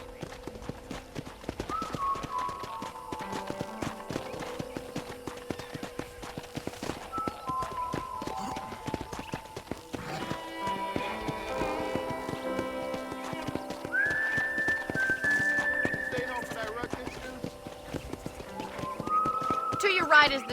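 Horse hooves clip-clop steadily in the Red Dead Redemption video game, mixed with whinnies and whistled game sound effects under a continuous soundtrack across about twenty seconds.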